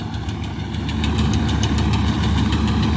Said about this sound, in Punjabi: ਬਾਕੀ ਆਪਾਂ ਚਲਾਉਨੇ ਆ ਹੁਣ ਟਰੈਕਟਰ